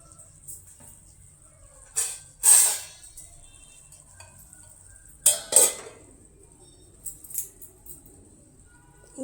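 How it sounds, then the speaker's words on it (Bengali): Metal cookware clatter over a pot of tomato chutney being covered: a quiet room broken by a few sharp clanks and scrapes, two louder bursts early and midway, then lighter taps near the end. "ঢাকনা লাগিয়ে দিলাম, এখন একটু সেদ্ধ হবে।"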